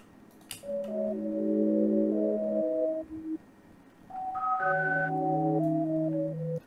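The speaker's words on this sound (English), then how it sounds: "I have this serum preset that sounds a little bit like this." Synth melody played from a self-made Serum preset for an ambient beat made in Ableton: sustained layered chord tones with bright upper notes, in two loud phrases separated by a short dip, no voices.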